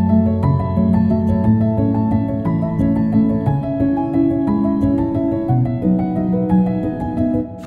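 A mellow piano plays a flowing, sustained melody with warm chords, processed to imitate the piano sound of a well-known piano recording, steady and close with no talking.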